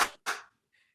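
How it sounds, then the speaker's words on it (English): A small podcast group claps in unison on a count of three, two sharp close claps a quarter second apart, the second smaller, followed by a faint trailing sound. "Clap on 3."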